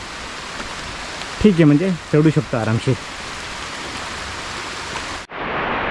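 Steady monsoon rain hisses throughout in a jungle, with someone speaking briefly over it; near the end the rain noise shifts, sounding closer and brighter.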